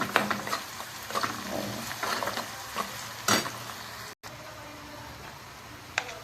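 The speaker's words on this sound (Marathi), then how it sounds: "कांदा परतताना तर थोडंसं मीठ घालायचं" Chopped onion with a little salt frying in a pan, stirred with a spoon, giving a steady soft sizzle with scraping clicks and taps over the top.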